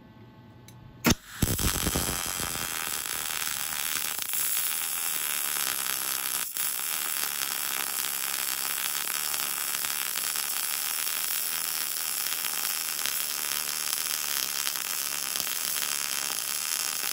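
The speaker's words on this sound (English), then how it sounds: "So I'm gonna run this weld now." A MIG welder runs a bead, starting with a sharp crackle and settling into a steady, loud frying buzz that holds for well over ten seconds.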